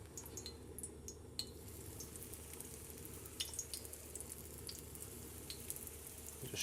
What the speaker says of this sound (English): So time to fry the crab cakes